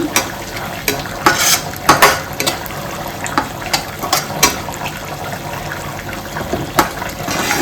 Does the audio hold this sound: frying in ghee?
yes